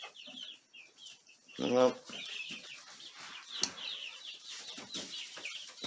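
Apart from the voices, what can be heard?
chickens clucking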